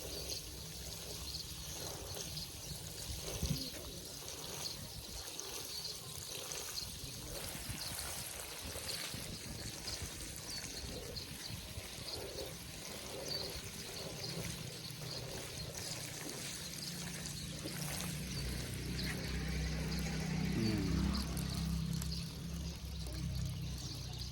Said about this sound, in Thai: ลดน้ำให้ชุ่มเลยครับเขาจะได้เกิดง่ายๆ